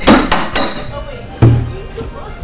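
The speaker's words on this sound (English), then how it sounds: "Hit it in with a hammer." A hammer strikes something during a live comedy talk show, with two or three sharp, loud knocks close by followed by a later single blow, amid background voices and room noise.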